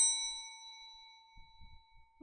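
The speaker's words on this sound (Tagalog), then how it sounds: "Ba't nyo rinig yung bell?" A single bright bell ding strikes at the start and rings out with a long, clean decaying tone in an otherwise quiet room, followed by faint low thuds.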